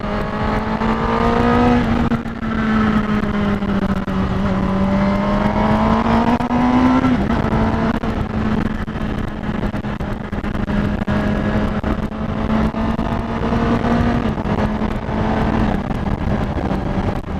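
A 2018 Honda CBR1000RR SP Fireblade sport bike engine drones steadily with a sustained, shifting engine tone heard close from the rider's position, rising and dipping as the auto blipper smooths gear changes, with heavy wind rush throughout.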